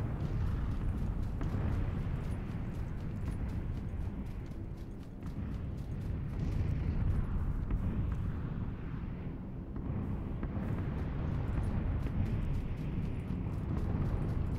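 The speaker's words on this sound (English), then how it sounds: "And there come the bombs." Bombs explode over the red zone in PUBG, heard as a dense, continuous low rumble of distant blasts that rolls on steadily throughout.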